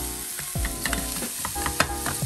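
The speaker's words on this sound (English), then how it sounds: "And then I'm gonna stir it up" Chili meat with paprika being stirred in a pan, close sizzling under several scraping strokes and clinks of a spoon against the pan over a couple of seconds, with no talk.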